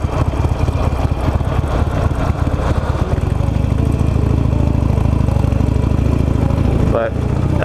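A Harley-Davidson Nightster motorcycle engine rumbles steadily while riding, a loud continuous low drone with wind noise that cuts off near the end, and someone talks over it throughout.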